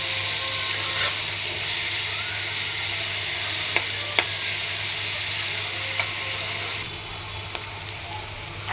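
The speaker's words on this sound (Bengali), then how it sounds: "চিংড়ি মাছ দিয়েছি, এখন ভাজবো।" Shrimp fry in a pan with a steady, even sizzle, broken by a few sharp clicks of a utensil against the pan; no talk.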